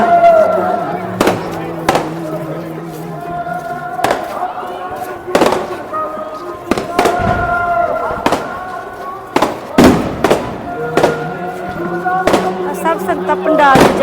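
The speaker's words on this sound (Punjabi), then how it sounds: "ਵੇਖੋ ਆਤਿਸ਼ਬਾਜ਼ੀ ਕੀ ਵਧੀਆ ਨਜ਼ਾਰੇ ਨੇ" Repeated loud fireworks cracks and bangs go off every second or so over a long stretch at Sri Hazur Sahib, Nanded, with ringing tones and distant voices in the background.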